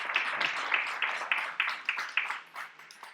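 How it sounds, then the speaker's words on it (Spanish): An audience at a folk tonada singing festival in Asturias claps in a brief burst, individual claps distinct and rhythmic at first, then thinning out and fading toward the end. "¡Aplausos!"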